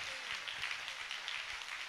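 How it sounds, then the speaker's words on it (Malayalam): Congregation at a Malayalam Christian retreat clapping to praise the Lord, a fairly faint, continuous patter of many hands heard at a distance without voices. "ഒന്ന് ഉറക്കെ കൈയടിച്ച് കർത്താവിനെ മാറ്റപ്പെടുത്തിയേ"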